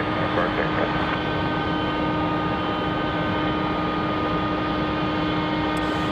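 A Frontier Airlines plane at Raleigh-Durham airport produces a steady, broad engine roar with a faint whine, continuous and moderately loud throughout, while a voice talks underneath.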